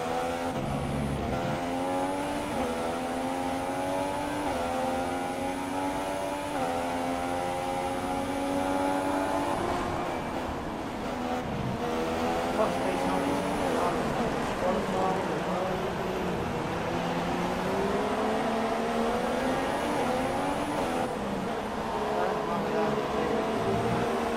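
Engines of race cars in a video game race, a constant, strong whine that rises and falls through gear shifts as the cars lap the track. A voice talks over the engine noise.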